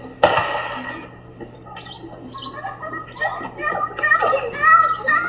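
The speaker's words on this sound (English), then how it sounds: "You'll see kids playing" Children play outdoors on a residential street in Ypsilanti, Michigan, on a Saturday afternoon, their lively voices and calls rising and falling at mid distance, with birds chirping now and then in the background.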